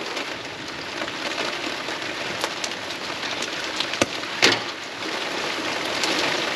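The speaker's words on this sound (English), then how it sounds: "here comes the hail" Hail begins falling outdoors at an entranceway renovation site, a dense, steady hiss of pelting ice with a few sharper individual clicks and taps, fairly loud and continuous with no talking.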